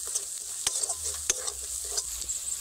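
Spices with Kashmiri chili powder stirred and frying in a pan over low heat: a soft steady hiss broken by a few sharp spoon knocks and scrapes, close and without speech.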